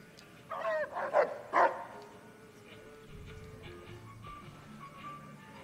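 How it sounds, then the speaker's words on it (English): A robotic dog in the video game Fallout: New Vegas lets out three quick, close yapping barks. A quieter low hum from the game follows. "There's the dog. That is a robo-dog."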